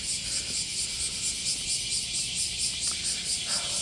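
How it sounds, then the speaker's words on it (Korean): Cicadas drone in a loud, continuous high-pitched buzz with a steady pulsing rhythm, filling the air throughout, near Nagasaki Station in Japan. "매미가 굉장히 많이 오네요"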